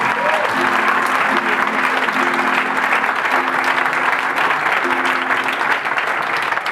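Sustained crowd applause from a comedy show audience, steady and fairly loud throughout, with a faint tonal hum and voices underneath.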